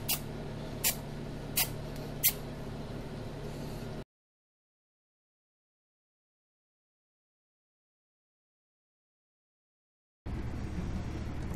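Four short, sharp hiss bursts from an aerosol hair texture spray, a wet rather than powder spray, in quick succession, then a long stretch of silence before faint background noise returns.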